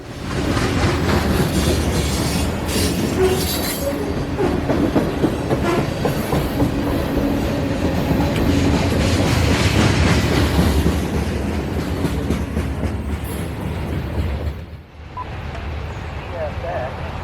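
A train rumbles past loudly and close, wheels clacking steadily on the rails, before the noise briefly drops and resumes.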